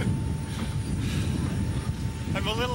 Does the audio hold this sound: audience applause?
no